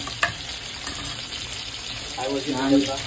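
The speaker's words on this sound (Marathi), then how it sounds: "बघू शकता आता बागडा फ्राय चालू आहे आणि ते कोलंबी" Bombil (Bombay duck) fish fry steadily in a pan, with prawns cooking alongside at a beach birthday party; a close, continuous sizzle runs throughout, with a brief voice near the end.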